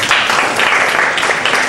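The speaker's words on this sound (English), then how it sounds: "Give yourselves a round of applause" Loud, dense applause from a live show audience at Pitch and Putter, a close, continuous roar of clapping over a short stretch.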